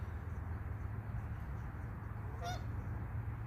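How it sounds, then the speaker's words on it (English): A single goose honks once from the water on a river, a brief, moderately distant call over steady outdoor background hiss. "There's a goose hollering at me."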